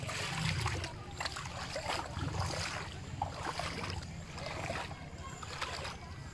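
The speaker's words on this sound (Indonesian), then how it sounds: "Seperti inilah banjir bandang yang melanda" Floodwater from a flash flood surges through the streets of Masamba in Indonesia's Radda district, a steady, loud, broad rushing roar that carries on without a break.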